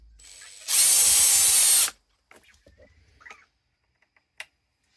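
A power driver snaps a part tight on an RC car in one loud, steady whir of about a second, followed by faint clicks and light handling of parts.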